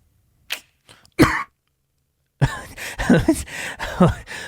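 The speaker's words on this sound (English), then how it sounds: "I was trying to mute my mic at the same time that a coughing spell was coming over me." A few short, sharp coughs separated by silence, followed by a rougher burst of repeated coughing and throat noises close to the microphone.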